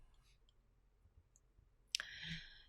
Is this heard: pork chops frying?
no